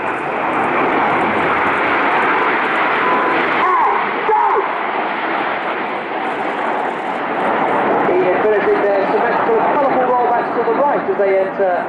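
Red Arrows jets roar past in a flying display pass at the Bournemouth Air Festival, a loud sustained engine rush that swells and shifts pitch, with crowd and commentary voices underneath.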